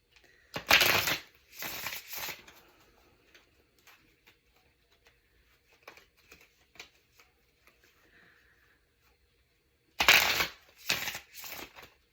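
Tarot cards are shuffled and drawn in two loud bursts of riffling and snapping at the start and again near the end, with faint taps and card slides in the quiet stretch between.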